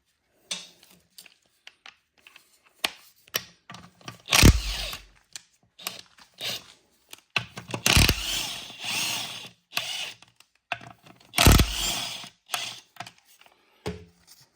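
A ratchet and tools work loose the PTO cover bolts on an NV5600 six-speed transmission from a Dodge Ram Cummins diesel, producing sparse clicks and short ratcheting bursts with several louder clunks between quiet gaps.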